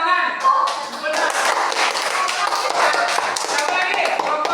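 A classroom of students claps together in a dense, continuous patter that lasts several seconds, with voices mixed into the applause.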